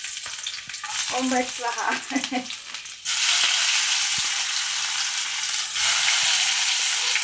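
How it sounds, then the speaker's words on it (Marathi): Garlic, tomato and chili drop into very hot oil for tempering, bursting into a loud, close, steady sizzle and crackle that keeps going after a short chant is spoken over quieter pan noise. "जरा लांबून टाकूया कारण तेल जास्त तापलंय."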